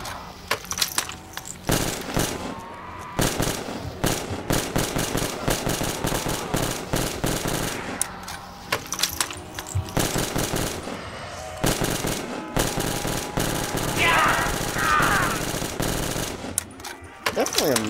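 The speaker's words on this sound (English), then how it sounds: "When I was shooting that guy in the chest" Gunfire in Black Ops 3 Zombies crackles in long rapid bursts of sharp, loud shots, nearly continuous with brief gaps, while a voice is heard faintly in the mix.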